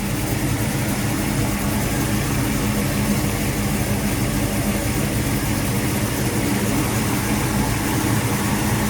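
A small block Mopar V8 idles steadily as its ignition timing is advanced, giving a constant low, dense rumble with no pauses for the whole stretch and no voices.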